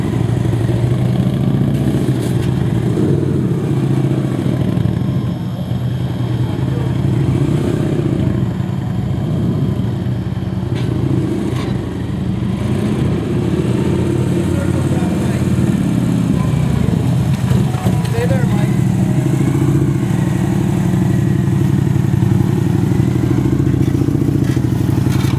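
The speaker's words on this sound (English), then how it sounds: "Nothing can beat this bike." Victory police motorcycle engine ridden two up during testing, a steady loud rumbling drone throughout with occasional clatter, close to the microphone and with no talk.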